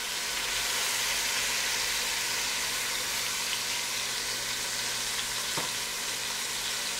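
Meat browns in an Instant Precision Dutch Oven with a steady, dense sizzle and frying crackle, close and continuous throughout.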